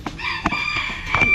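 Rooster crowing close by in a long, strained call with a few sharp clucks and bursts mixed in.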